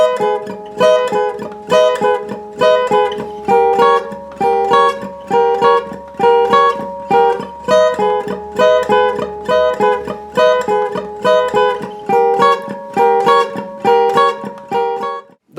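Guitar playing the ending instrumentation of a song: a steady, repeating chordal pattern with even rhythmic plucks that continues throughout, clear and close with no talking.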